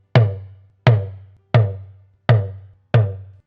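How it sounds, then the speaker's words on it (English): Five evenly spaced, resonant talking drum strokes at a middle pitch, the Re tone, played with the tension cords lightly compressed, each ringing briefly and decaying before the next, played alone and close. "This is how the Re tone sounds."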